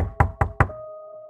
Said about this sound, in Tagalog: May naririnig siyang mahina at paulit-ulit na katok mula sa likod ng retreat house.